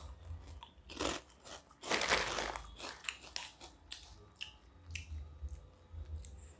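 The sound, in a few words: crunching Korean shrimp snack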